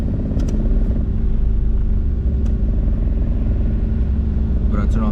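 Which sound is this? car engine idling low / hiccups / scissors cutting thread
car engine idling low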